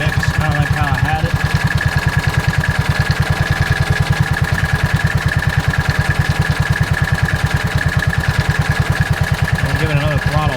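John Deere Gator 4x2 engine running after new clutches and magneto, its fuel mixture being adjusted; a loud, close, steady rapid idle putter with fast even firing pulses throughout, a voice speaking briefly over it.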